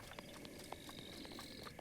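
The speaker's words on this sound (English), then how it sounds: "Horse." Horse hooves clip-clop in a quick, even rhythm in the video game The Legend of Zelda: Breath of the Wild, faint and steady.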